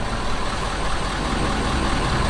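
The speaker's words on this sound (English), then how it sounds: "hopefully you guys can hear the engine" A Ford F350 Powerstroke diesel pickup with about 100,000 miles idling, a low steady rumble with a faint knock, even and unbroken for a couple of seconds.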